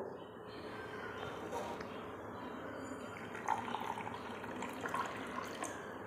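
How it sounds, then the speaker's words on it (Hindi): Water poured from a full glass into another glass, a soft, steady trickle with a few small splashes and clinks, faint and close, no one speaking over it. "इस पानी से भरे हुए गिलास में से पानी को इस गिलास में डालकर देखेंगे"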